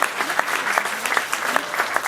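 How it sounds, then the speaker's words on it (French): A crowd at a left-wing political rally in Nice applauds steadily, with a thick wash of many hands and a few sharper claps standing out. "Oui, on peut l'applaudir."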